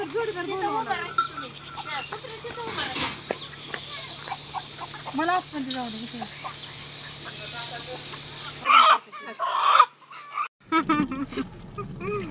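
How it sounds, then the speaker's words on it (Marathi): A rooster squawks and clucks in short bursts near the end, mixed with chatter and talking voices from people close by. "कोंबडा पकडायचे आता"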